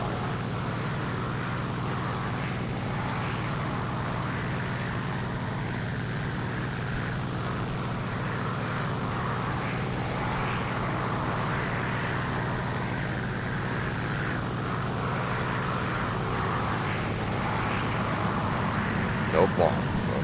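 A bomber aircraft's engine drones in a video game, a steady, continuous propeller-like hum running throughout at even loudness with a faint rise and fall, while speech is present alongside it.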